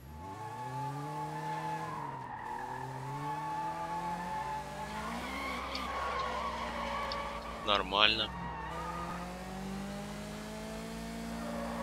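A new car in the Sleeping Dogs video game roars along with a steady engine drone that rises and falls, then breaks into a short, sharp tire squeal as it skids. Someone speaks briefly over the engine.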